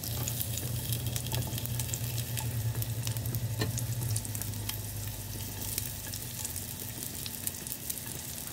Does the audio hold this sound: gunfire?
no